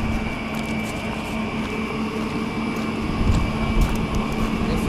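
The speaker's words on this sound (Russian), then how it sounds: "Садимся на подъемник." A ski chairlift runs at a Sheregesh mountain resort in summer, giving a steady, loud mechanical drone and hum with a constant low tone, rising slightly toward the end, with no talking.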